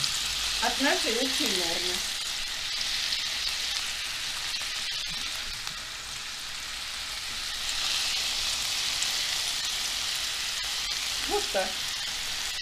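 Apples frying in butter in a pan give a dense, steady sizzle throughout, loud and close, while someone speaks briefly at the start and again near the end.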